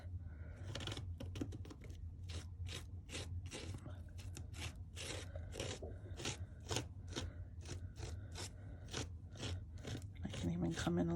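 Excess paste scraped off a mixed media art journal page with a tool, close rasping strokes repeating in quick bursts over a faint background murmur.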